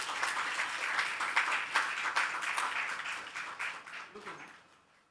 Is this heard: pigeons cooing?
no